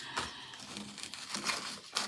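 Tarot cards slide and rustle against one another in a light, papery shuffle, several soft swishes and crinkles close by and quiet, with no voices.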